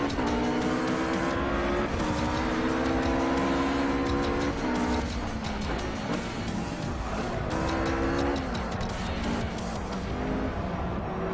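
Race cars driving in the Project CARS video game, a loud, sustained engine drone that rises and shifts pitch through gear changes, with other cars passing close by and brief tire squeal, no talk.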